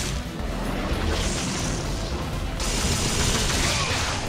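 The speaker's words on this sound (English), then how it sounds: "Just shoot him with the gun!" Steady, dense gunfire from a gun in the action game Devil May Cry, loud and continuous throughout, with heavy rapid bursts and booming impacts layered over game noise.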